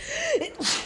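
A single sharp human sneeze indoors, a quick rising intake of breath followed by a bright, explosive burst, close and fairly loud, with no talking over it.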